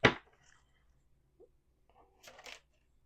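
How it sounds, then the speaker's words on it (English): Tarot cards are shuffled by hand in a quiet room, with a sharp riffle at the start, then a few faint taps and a short, crisp flurry of card sounds near the end. "Last shuffle."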